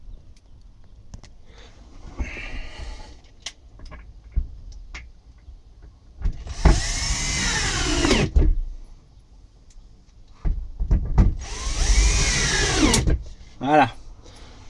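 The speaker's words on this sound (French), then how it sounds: "Et on va la visser là où c'était prévu, un peu plus loin quoi." A screw is driven into a Glenwood outdoor storage chest from Bricodepot, giving two whirring mechanical bursts of a few seconds each, separated by quieter handling noises and a voice.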